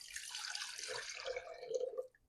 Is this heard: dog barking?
no